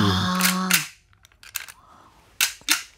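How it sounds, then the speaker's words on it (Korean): Gun cocking and firing foley made by working an apartment door handle, a sharp metallic rattle and click followed by several crisp snapping clicks, close and loud, with a brief voice at the start. "집 안방문 여는 그 손잡이를 가지고 지금 총 격발할 때 그때 찰칵하는 그 소리를 지금 내신 거예요."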